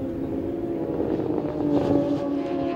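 Suzuki racing motorcycle engine in a GP1000 superbike race at Santa Cruz do Sul, a steady droning whine that swells briefly, heard at a distance with wind noise.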